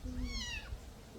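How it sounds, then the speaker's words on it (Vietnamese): A kitten lets out a single short rising and falling meow, close and clear over faint room noise. "Mèo mèo."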